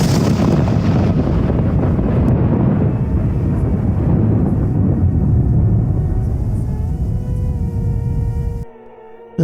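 Thunder rolls across the sky in one loud, heavy rumble lasting around nine seconds, deep and continuous, before cutting off abruptly.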